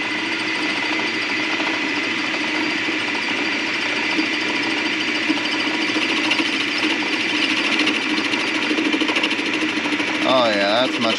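A Logan Model 200 10x24 metal lathe runs with its 3-jaw chuck spinning, giving a loud, steady mechanical whir and clatter that holds constant throughout, with a brief voice near the end.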